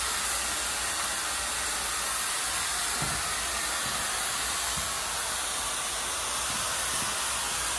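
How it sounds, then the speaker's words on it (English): An oil-based aerosol spray hisses continuously and evenly at close range during a long razor shag haircut, a steady airy spray with faint handling sounds underneath. "I'm going to start to loosen this up a little bit now using kind of an oil-based spray."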